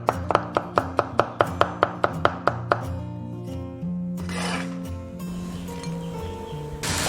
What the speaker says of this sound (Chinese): 黄瓜切丝